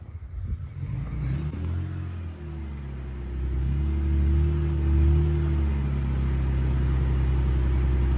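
A 1992 Acura Legend engine idles steadily after being revived, a low, continuous rumble close by that rises slightly and settles into an even drone with no talking.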